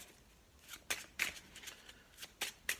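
A deck of playing cards is shuffled in a few quiet, soft riffling bursts, close but low in level.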